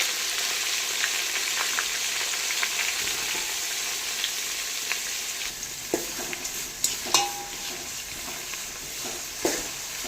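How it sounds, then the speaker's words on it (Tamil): Onions crushed on a grinding stone fry with a few poppy seeds in the pan for a village-style mutton kuzhambu, sizzling steadily as a spoon stirs and scrapes them in scattered strokes. No one speaks. "இப்போ இது கூடவே அம்மியில் இடிச்சு வச்ச வெங்காயத்தை ஆட் பண்ணி நல்லா கிளறி விட்டுக்கலாம்."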